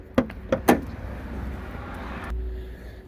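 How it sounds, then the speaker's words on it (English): The bonnet catch on a 2018 Chausson Welcome 610 motorhome is released, giving a few sharp, close metallic clicks and clunks early on, followed by a low rumble and a soft thud near the end. "to release the bonnet fully, it's a catch underneath here"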